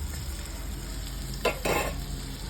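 Garlic dropped into hot butter in a pan, a quiet background hiss broken by two short bursts of sizzling as the pieces hit the fat, close and with no talking.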